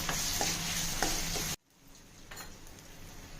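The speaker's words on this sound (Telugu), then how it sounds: "ఇది కొంచెం పచ్చి వాసన పోయే వరకు వేయించుకోవాలి" Ginger-garlic paste fries with onion and tomato in a pan for pakoda curry, a close, dense sizzle with stirring scrapes that cuts off abruptly after about a second and a half, leaving faint room noise.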